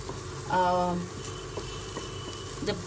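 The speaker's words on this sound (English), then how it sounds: "I'm sauteing my carrot and beans." Chopped carrot and beans sautéing in ghee in a pan, a soft steady sizzle with faint stirring and a brief tonal clink, close and moderately quiet.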